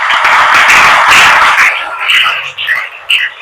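An audience claps together for a speaker at a Telugu discourse, a dense burst of applause that fades after a couple of seconds into scattered claps and background noise.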